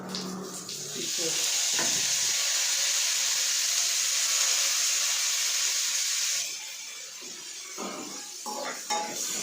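Food frying in a pan gives a loud, steady sizzle for several seconds, with faint utensil taps before and after and quieter hissing as it settles.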